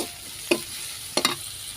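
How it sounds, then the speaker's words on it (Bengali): Shredded cabbage hits hot oil already seasoned with chopped garlic, onion, cinnamon and black and white cardamom, giving a soft steady sizzle broken by a few sharp utensil clicks and stirring scrapes, with no talking. "তো এখানে বাঁধাকপিটা আমি এখন তেলে দেব।"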